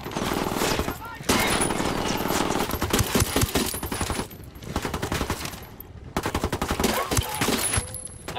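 Rapid gunfire in Ghost Recon Wildlands, with loud bursts of automatic fire rattling almost continuously, a few short pauses between volleys, and voices talking amid the shooting.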